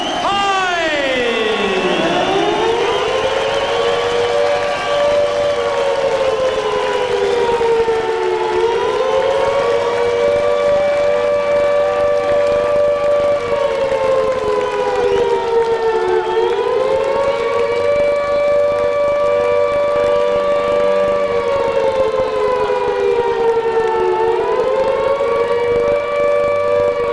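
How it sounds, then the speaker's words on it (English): A civil defense siren wails continuously at a heavyweight boxing ring entrance, loud and near, its pitch sweeping up and down in long slow cycles throughout. "are those sirens sounding a warning for Hyde himself or for Klitschko?"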